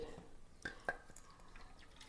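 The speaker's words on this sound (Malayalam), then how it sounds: "വെള്ളമൊഴിച്ച് കൊടുക്കാം" Water is poured in small trickles and drips into ground curry paste of shallots, ginger and garlic, a few soft splashes standing out against a quiet kitchen background.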